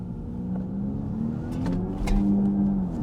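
A Kia EV6 GT electric car makes synthetic engine-like notes that rise through simulated gear changes, the tone stepping up and dropping back with each virtual shift, heard from inside the car.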